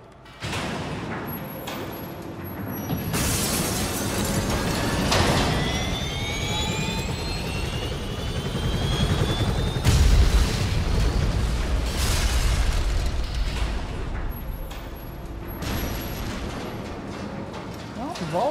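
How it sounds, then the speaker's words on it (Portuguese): Tony Hawk's Pro Skater HD game audio from the Hangar level: an airplane firing, with roaring jet engine noise, whining engine tones and rapid mechanical gunfire-like rattling, loud and continuous for the whole stretch. "Não lembrava desse avião atirando, não."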